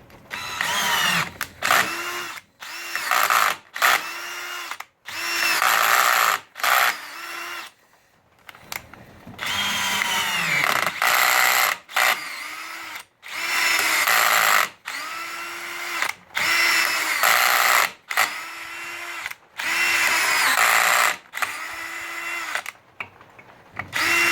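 A power drill bores holes into a Harbor Freight metal-cutting band saw table, running in repeated loud whining bursts separated by short pauses, close up and with no talk.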